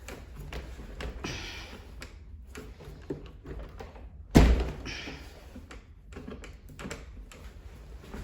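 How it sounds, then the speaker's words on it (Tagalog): A house door in Moscow is locked, giving one solid, close thunk of the latch partway through, set against quiet room noise and a few faint taps. "Lock natin yung pinto para sigurado."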